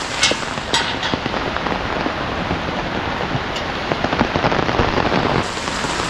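Steady heavy rain hammers down on surfaces nearby during a flood in Ratnagiri, a dense continuous patter with a few sharper splashes and no voices.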